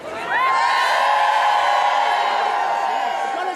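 A large, loud crowd of protesting teachers outside the Scottish Parliament at Holyrood, with sustained shouting, whoops and a rising whistle-like cry over a dense roar of voices.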